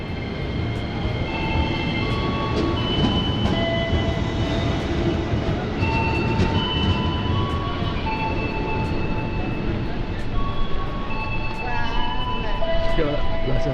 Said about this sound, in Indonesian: ini KRL ke Palu persiapan berangkat